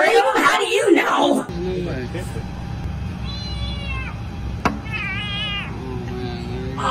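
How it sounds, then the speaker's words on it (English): Small kitten meowing with surprising loudness, a few drawn-out rising cries after an opening burst of talk, with faint background hum throughout. "how can such a small kitten make such a loud meow"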